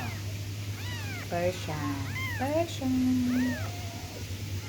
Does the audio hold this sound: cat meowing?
yes